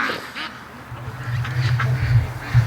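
Free-range ducks quack in a low, raspy chorus close by, building in a repeated rhythm over soft outdoor background noise.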